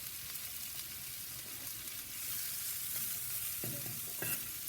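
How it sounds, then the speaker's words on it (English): Onions sizzle on a soapstone slab heated on a Big Joe ceramic grill, a steady broadband frying hiss close by, with a few soft scraping touches near the end and no voices. "trying to do here is just soften the onions up a bit"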